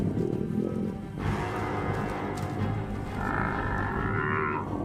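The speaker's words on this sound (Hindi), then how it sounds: "जब भैंसे हमला करते हैं तो लगता है जैसे वो सामने खड़ी बड़ी से बड़ी दीवार भी गिरा देंगे" A herd of African buffalo charging in the wild, with a dense, continuous rumble of hooves and bodies across the whole stretch, loud and near, and a low lowing call from the cattle breaking through. Nobody speaks.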